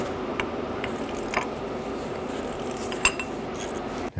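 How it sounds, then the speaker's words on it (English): Ratchet clicking steadily while unthreading the inner tie rod from the steering rack of a 2009-2015 Honda Pilot, close and moderately loud, with a sharp metallic clack near the end. "we'll use our ratchet to assist us in getting this off."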